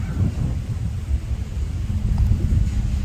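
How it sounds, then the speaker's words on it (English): Low, blustery rumble of wind buffeting the microphone, steady and continuous with gusts swelling toward the end, no voices. "It's really too windy"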